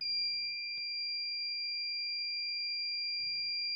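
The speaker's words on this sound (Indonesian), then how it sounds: "buzzer ini hanya berbunyi beep panjang atau continuous jika terhubung ke sumber tegangan" A mini buzzer gives a steady high-pitched continuous beep that drones on without a break, with faint handling noises at the beginning and end.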